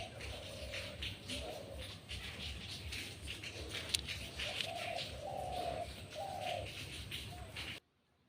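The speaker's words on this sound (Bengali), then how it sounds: "বিকেলে এরকম পাখির ডাক কার কার শুনতে ভালো লাগে বলো?" Birds call on an evening outdoors, with a pigeon's soft repeated cooing phrases standing out over a steady ambient background, with a faint chirp or two, until the sound cuts off at the end.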